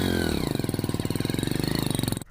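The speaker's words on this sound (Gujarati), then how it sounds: "એ હવાલદાર મોટરસાયકલ આપણું ચાલુ થયું કે શું?" A motorcycle engine catches and settles into a rapid, even putter, close and fairly loud, before cutting off abruptly at the end.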